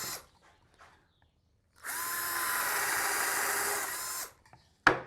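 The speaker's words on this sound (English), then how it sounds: "instead of drilling into the table this time, I'll use a piece of scrap wood underneath it" A power drill boring through a board into scrap wood underneath while building a bird feeder, a steady loud whine lasting about two and a half seconds between quiet handling sounds and a sharp knock at the end.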